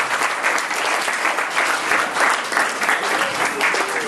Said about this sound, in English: another round of applause, everybody